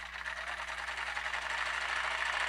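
A sewing machine stitches around a blue dot minky newborn diaper in a steady, close mechanical whir with a constant buzzing hum and no pauses.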